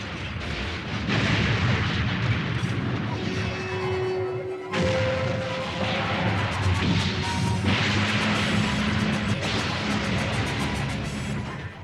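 Anime sound effects of the giant robot Gog smashing everything around it: a loud, unbroken wall of booming crashes, rumbling impacts and debris, with tonal effect sounds ringing through the destruction.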